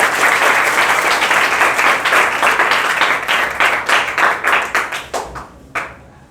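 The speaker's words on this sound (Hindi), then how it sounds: "तालियां बजाओ" A group of students at a school Gandhi Jayanti art event claps enthusiastically, then the applause thins out into a few scattered, slowing claps before stopping.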